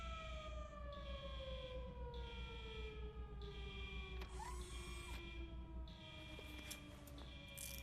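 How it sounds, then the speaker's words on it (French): A wailing alarm siren in RoboCop: Rogue City sweeps steadily over a low mechanical hum, pulsing in regular cycles at moderate volume with a few metallic clanks. "Il y a une alarme"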